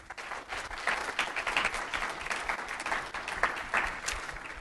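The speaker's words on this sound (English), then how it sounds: "Do you want to give him a round of applause?" An audience at a network operators' conference claps steadily through a round of applause, with individual claps audible inside a moderately loud, even wash of sound.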